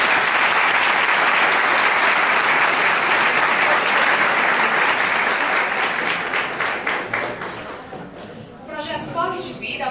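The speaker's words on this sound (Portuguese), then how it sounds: "Uma salva de palmas, por favor" An audience at a cultural talk breaks into sustained, dense applause that fills the room. It thins toward the end into scattered individual claps.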